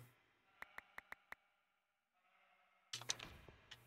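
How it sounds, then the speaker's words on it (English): A sheep bleats in Minecraft PS1 Edition, a short wavering cry near the end. It is preceded by a quick run of five sharp ticks and a quiet pause. "I just heard like a sheep."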